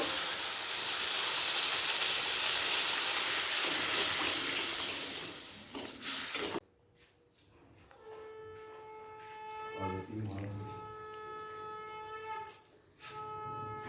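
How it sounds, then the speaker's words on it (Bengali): Watery mustard paste pours into a pan of softened tomato for a sea chanda fish curry, first a long steady rushing hiss, then a quieter stretch with brief splashes and kitchen clatter, no voices. "এই সময় দিয়ে দেব সর্ষে বাটার জল"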